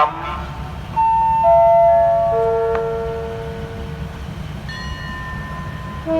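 An ordinary passenger train, number 262 running from Hua Hin to Bangkok, rumbles steadily and loudly throughout, with sustained tonal whines and squeals rising over the low rolling noise.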